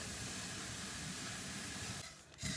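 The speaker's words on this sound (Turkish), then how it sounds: "Karıştırarak kavuruyoruz." Raw sesame seeds roast and are stirred in a pan over high heat, producing a steady, close sizzling hiss that drops out briefly near the end before resuming.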